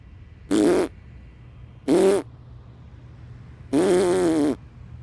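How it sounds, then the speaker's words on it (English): Cartoonish fart noises used as a spacesuit's propulsion in the space station game Mission ISS: three separate loud blasts, two short ones and then a longer one, each standing alone over a low background hum. "I'm farting, aren't I?"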